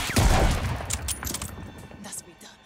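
A dense burst of gunfire opens a Call of Duty Vanguard firefight, loud at first, then thinning into scattered shots and rumble as the shooting fades.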